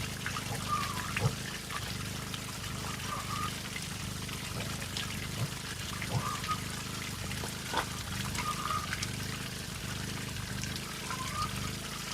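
Water pours and trickles steadily at close range, a soft continuous splashing with occasional brighter drips over a low background hum.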